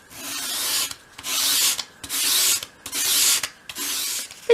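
A file rasps a sharp bevel onto a small wooden piece for a 1/12 scale model, five even back-and-forth strokes of close, loud scraping separated by brief pauses.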